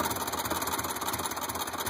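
Small cart engine running with a newly welded Robertson torque tube exhaust, a fast, even chattering putter like a sewing machine, steady and close with no talk.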